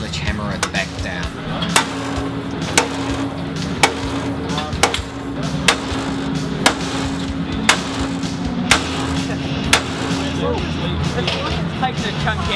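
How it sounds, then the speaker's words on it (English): Sledgehammer strikes on a stock car's snapped front bumper bar, about a dozen sharp metallic clangs spaced roughly one second apart, loud and close, over a background hum and voices talking. "Tom and Dean would have an attempt to sledgehammer it back down"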